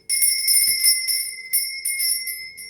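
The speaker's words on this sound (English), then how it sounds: "I'm going to be ringing this lovely bell" A bell is rung close by, with a string of bright, sustained chiming strikes in uneven bursts over a couple of seconds, each tone ringing out and fading slightly before the next, with no voices.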